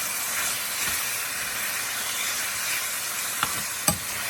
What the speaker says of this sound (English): start stirring your pork